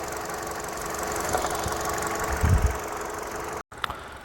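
A 2009 Hyundai Avante Hybrid LPI with 116,000 km idling with the hood open, a steady low rumble with a brief dull thump midway and a short cut near the end, in light rain.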